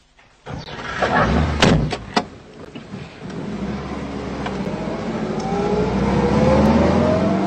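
A car parked by a porch in an animated Tintin film: sharp door slams and clunks, then an engine starts and revs steadily louder.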